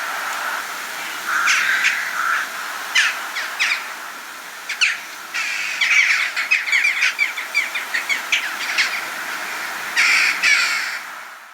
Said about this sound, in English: Jackdaws and rooks flying together in a large flock